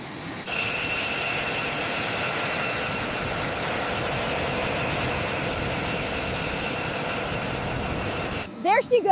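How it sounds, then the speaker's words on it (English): An F-117 Nighthawk jet taxis toward the runway on its first flight, its engine giving a loud, steady whining rumble with sustained high tones that runs unbroken for several seconds, then cuts off into a few short clattering bursts. "There she goes, taxiing to the runway for first flight."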